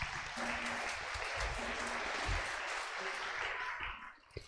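An audience claps loudly together during a church gathering, a sustained dense round of applause that fades out near the end.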